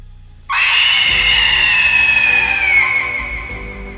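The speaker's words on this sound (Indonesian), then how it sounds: "Itu adalah jeritan seorang wanita, dipenuhi ketakutan yang luar biasa." A woman screams in terror: one loud, sustained, piercing cry that bursts in suddenly and holds for about three seconds, its pitch sagging slowly, over a low rumble that continues after the scream fades.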